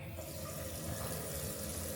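Water runs steadily from a shower tap in an apartment unit in Angeles City, a continuous broadband rush that stays close and even throughout, with no voices over it.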